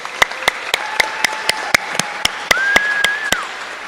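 Clapping at a live broadcast of a peace song awards ceremony: evenly spaced, crisp single claps about four per second, with thin whistle-like tones running over them in the background.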